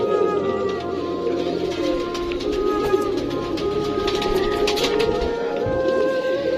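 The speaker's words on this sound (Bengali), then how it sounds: "অনেক কবুতর মাশাআল্লাহ।" Many pigeons cooing together at a pigeon farm in Sarail, Brahmanbaria, a dense, continuous chorus of overlapping coos close by with no talking.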